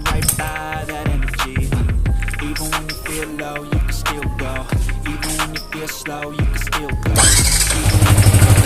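A Yamaha Vixion motorcycle that had been hard to start, now fitted with a new starter motor, fires on a single press of the electric starter. Loud, close cranking and rhythmic bursts settle into a steady idle, with no speech.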